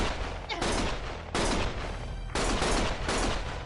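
Heavy automatic gunfire in the video game Lost Judgment: dense sustained bursts of rapid shots, loud and close, broken by brief pauses, with no voices over it.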